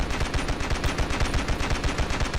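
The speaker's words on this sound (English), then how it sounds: "the HMG, best weapon in Ravenfield" Heavy machine gun from the Ravenfield video game firing a continuous rapid burst, loud, dense and evenly paced throughout with no talking.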